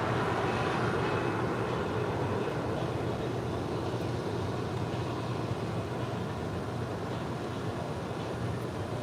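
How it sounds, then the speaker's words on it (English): A United Airlines Boeing 737-900ER arrives from Hilo at LAX, a steady broadband jet roar holding at a constant level throughout, heard from a distance. "That is United Airlines Flight 1706, coming in from Hilo. It's a 737-900ER."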